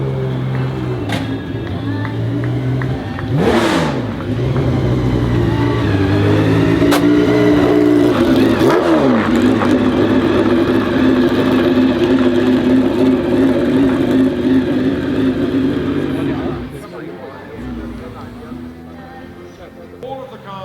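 Sports cars, including a CLK GTR and MC12 Corsa, rev and roar past one after another in the Concorso d'Eleganza Villa d'Este 2025 parade, loud rising engine notes and sweeping pass-bys, then quieter idling as traffic thins.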